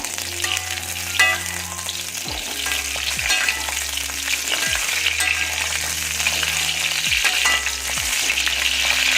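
Steady, crackling sizzle of food frying in a pan, with occasional scraping stirs and a low background hum; no voices.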